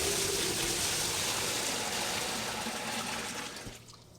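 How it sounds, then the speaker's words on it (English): Water poured from a 5-gallon bucket into a plastic tote rushes and splashes steadily up close, then tapers off as the bucket empties. "I'm going to just fill up this 5-gallon bucket several times, empty it into here"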